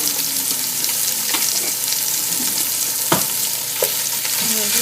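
Oxtail pieces browning in a hot frying pan give a loud, continuous sizzle with occasional knocks and scrapes as they are moved and stirred, close up and with no voices.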